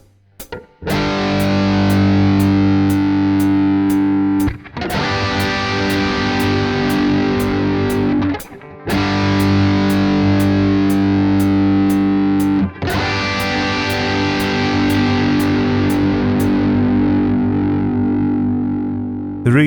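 Heavily distorted electric guitar power chords struck four times, each sustained with a thick, buzzing roar until the next hit.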